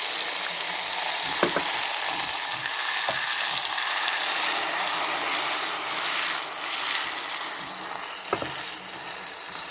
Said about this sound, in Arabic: المهم هذا الزيت سخون، كندير فيه فله حمراء ودغيا كنطفيها بالماء